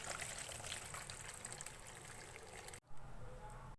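Hot boiled pasta water pouring from a pot through a strainer set over a bowl, a steady rushing splash that breaks off briefly near the end, then resumes.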